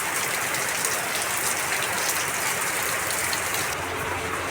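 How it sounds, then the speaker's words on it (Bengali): Heavy all-day rain pours down steadily, a dense, loud, unbroken hiss of falling water with no pauses and no voices. "সারাই বৃষ্টি নেমেছে, পড়েই যাচ্ছে বৃষ্টি, প্রচুর বৃষ্টি পড়ছে।"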